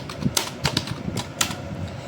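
Keys on a new keyboard, bought for learning to type and for gaming, are pressed a few times, giving sharp, quick clicks with short gaps between them.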